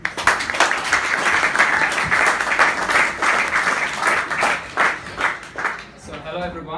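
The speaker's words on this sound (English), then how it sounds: "So maybe a round of applause for Alexa." Crowd at a startup drinks and pitch night in Melbourne applauding a speaker named Alexa, sustained dense clapping fairly loud and close, thinning toward the end as a voice begins under it.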